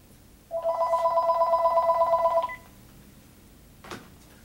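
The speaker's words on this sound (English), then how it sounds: "Let me just kill that phone." A telephone rings once indoors, a single bright electronic trill lasting about two seconds, clear and fairly close, followed by quiet room tone and a faint click.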